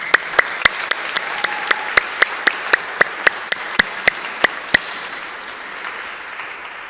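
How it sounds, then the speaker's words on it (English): An audience applauds the jury panel members at the live Global Peace Song Awards broadcast, with a sharp, evenly spaced clap standing out above softer background clapping for about five seconds before it fades. "Could I please get a round of applause for these amazing jury panel members?"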